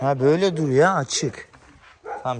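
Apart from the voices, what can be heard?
No everyday noise stands out behind the speech.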